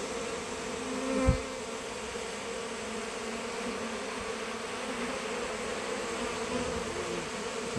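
A honeybee swarm flies in to a hive in late summer, making a steady, dense buzzing drone throughout. One louder thump comes near the start.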